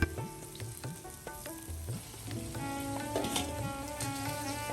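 Lentil fritters (dal bora) deep-frying in a kadai of oil, with a close, busy bubbling sizzle broken by repeated metal spoon scrapes and clinks throughout, no voices.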